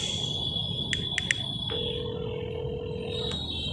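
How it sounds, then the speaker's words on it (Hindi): A few short electronic beeps, then a steady telephone tone holds for over a second before a final click over low background hum. "भोपाल में बैठी मुस्कान ने मन्नू को फोन किया।"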